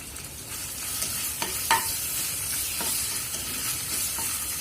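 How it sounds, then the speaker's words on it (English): Ginger garlic paste and pandan leaves being stirred in a hot pan, giving a quiet, steady sizzle with a few spoon scrapes and taps, no talking. "Stir them well."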